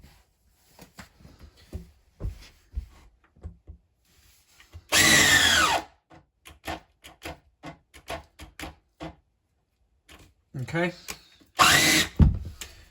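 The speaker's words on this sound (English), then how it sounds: "We're going to drill a 25mm hole through that wood" A cheap cordless drill bites into wood trying to bore a 25mm hole, in two loud bursts of whirring separated by someone talking.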